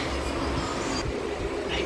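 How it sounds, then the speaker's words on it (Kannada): A passenger train pulling into Naindahalli station gives a steady, loud rolling rumble and hiss with no break, and no voices are heard. "ಟ್ರೈನ್ ಬಂತು ಈಗ ನೈನ್ಡಳ್ಳಿಲಿ ಇದ್ದೀವಿ ಸ್ಟಾಪ್ ಕೊಟ್ಟಿದೆ ನೈನ್ಡಳ್ಳಿಗೆ"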